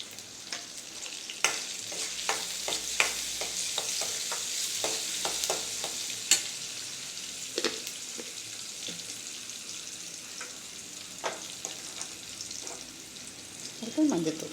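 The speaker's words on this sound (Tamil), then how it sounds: "இப்போ சோம்புத்தூள் போடுறேன்." Fennel powder stirred into a sizzling frying pan while making Thakali soup, steady frying hiss with scattered scraping stir clicks and spoon taps, close and alone.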